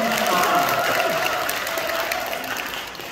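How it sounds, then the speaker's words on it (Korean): Audience applause at a church Bible recitation contest: dense, steady clapping from a crowd that stays fairly loud throughout and tapers slightly toward the end, with a faint murmur of voices underneath. "자, 우리 격려의 박수 한 번 더."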